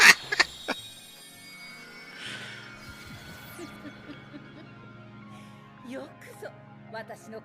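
A bird being chased in a video game, with quacking, honking fowl calls over a steady low drone, an early sharp crash, and scattered brief squawks toward the end.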